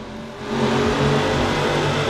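Car engine accelerating in the Forza Horizon 4 racing game, a light car with a huge engine and only three gears; a low, steady drone swells into a louder revving roar, close and continuous with no talk.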